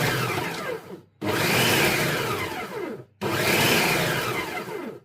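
An electric mixer whirs loudly in two long bursts with a brief pause between, beating a rhubarb crumble cheesecake filling until combined.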